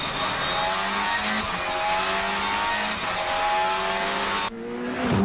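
Ford Puma rally car engine with the anti-lag switch on, a loud sustained howling rev with tire noise, the engine note holding steady before dropping off near the end.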